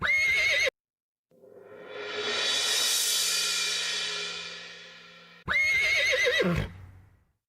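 A horse neigh sample triggered in Ableton Live during a house beat session, a single long whinny that swells and fades over several seconds, framed by short bursts of a synth or beat loop before and after.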